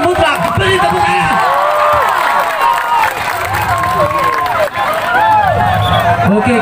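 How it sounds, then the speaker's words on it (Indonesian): A stadium crowd at a football cup final cheers, whistles and claps in a loud, continuous roar, with a voice over a public address system mixed in. "Beri tepuk tangan."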